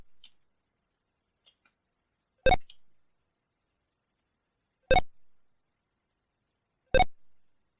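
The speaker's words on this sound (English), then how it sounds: "press spacebar, which will increase our throttle with a little beep" Three sharp electronic beeps from a ZX Spectrum flight simulator throttle, evenly spaced about two seconds apart, loud and clean against silence, with a couple of faint tiny blips before them.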